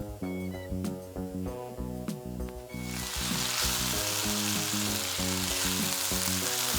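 Crushed garlic and 500 grams of sliced onion hit a hot pan for dhaba-style chicken, a quiet clinking and stirring giving way to a sudden loud, continuous sizzle that holds to the end.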